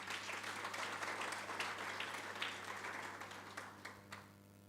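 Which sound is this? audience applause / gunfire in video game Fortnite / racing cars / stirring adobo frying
audience applause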